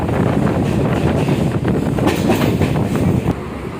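A running train heard from inside the carriage, with a steady loud rumble, wind rush and faint clickety-clack of the wheels lasting throughout, easing slightly at the end.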